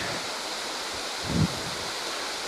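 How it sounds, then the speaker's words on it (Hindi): Glacier meltwater pours from a great height as a waterfall at Katora Lake, a steady, dense roar of rushing water throughout with a brief low thump partway through. "बहुत ऊंचाई से ये पानी आबशार की शक्ल में नीचे की तरफ आ रही है।"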